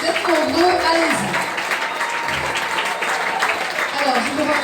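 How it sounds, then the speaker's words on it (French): A concert audience applauds at a gospel concert, loud steady clapping from a large crowd with voices over it and some musical tones underneath. "Alors, vous pouvez vous applaudir."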